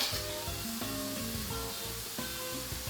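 Noodles with oyster sauce for dan dan mian are stir-fried and folded in a smoking-hot wok, giving a continuous close sizzle with stirring scrapes, no voices.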